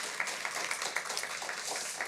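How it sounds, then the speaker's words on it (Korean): A church congregation claps during a Sunday worship service, a fairly soft, even wash of many hands with faint rhythmic accents, steady from start to finish. "하나님께 영광의 박수 한번 올려드리도록 하겠습니다."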